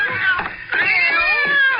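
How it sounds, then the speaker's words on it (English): Apartment cats fight behind a door, yowling in loud, drawn-out, wavering caterwauls with a brief break between two long wails, close and dominant. "That's the darndest cat fight."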